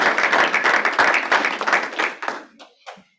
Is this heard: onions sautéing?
no